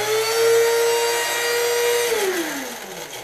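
An electric grinder on its lowest cup setting grinds wafer paper into fine powder, a loud steady motor whine that holds level before dropping in pitch as it winds down.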